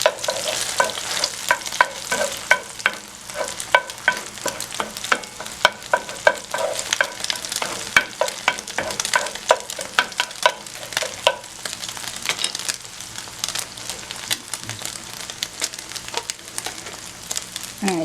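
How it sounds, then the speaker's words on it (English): Eggs scrambled and stirred in a hot frying pan for a shrimp dish with canned pineapple, a steady sizzle with frequent scraping and clacking strokes close up, nobody talking. "I'm just gonna quickly scramble it"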